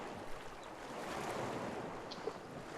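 Steady, rushing water ambience fills a dungeon area in the video game Legend of Grimrock 2. The soft, continuous wash has no breaks and no voices over it.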